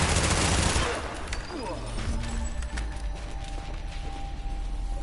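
Heavy gunfire in the shooter The Division opens the moment as a loud automatic burst, then fades into scattered shots and mechanical clatter under ongoing game noise.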